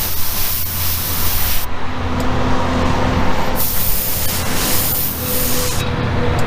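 Spray gun laying wet coats of paint on a custom Bone Shaker bike build, loud close hissing bursts in long passes with short pauses between them, no talking.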